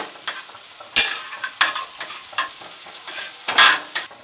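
Egg frying in hot oil, with crackling sizzle and sharp pops punctuating a soft hiss, close up.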